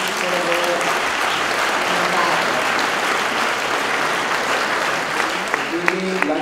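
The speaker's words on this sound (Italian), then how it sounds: "chiedere un applauso per questa bellissima edizione a Angelo Signorelli e al suo staff" Sustained applause from a crowd fills the space steadily, a dense wash of clapping with a voice briefly heard over it near the end.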